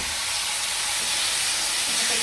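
Shawarma meat frying in a heated pan gives off a steady, close hiss and sizzle that holds at an even level throughout, with no voices.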